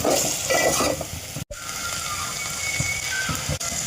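Boiled potato pieces get stirred with turmeric and spices in a pan, a soft scraping and sizzling that runs steadily at close range with a couple of brief pauses.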